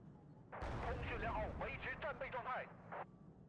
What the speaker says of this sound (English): where did that artillery end up landing?